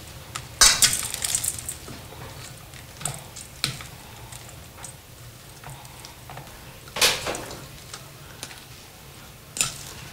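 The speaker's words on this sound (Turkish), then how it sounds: "Bu şekilde ekleyip çatalla karıştırıyorum." A fork scraping and clinking against a bowl while mixing flavoured butter, giving scattered sharp metallic taps and scrapes at irregular intervals over a quiet background.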